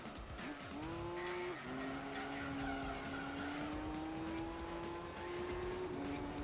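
A GTST Type M race car spins out in Gran Turismo 3, with long rising tire squeal over a steady engine drone, loud and continuous throughout.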